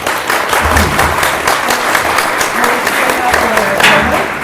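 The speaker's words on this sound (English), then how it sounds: "please give them a round of applause" Applause from the audience at a Republic Business and Professional Women candidate forum, loud and sustained clapping from a room of people, with some talking mixed in.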